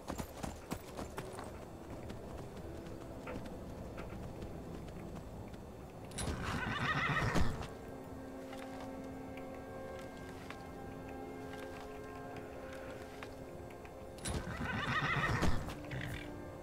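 A horse in the video game Skyrim clip-clops along with steady hoofbeats, and two loud neighs or whinnies break through, one near the middle and one near the end, with no talking.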